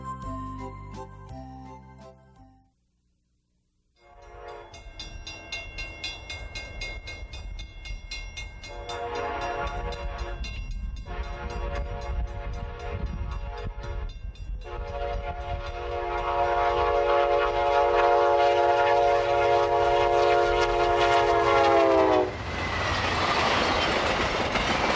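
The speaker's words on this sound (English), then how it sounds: "We have rejoined our Amtrak train as we travel westward through central Kansas in the pre-dawn hours" An Amtrak Southwest Chief passenger train rolls westward through central Kansas before dawn at close to 90 mph, with a steady rumble and rail clatter and a long, loud horn blowing repeatedly over it.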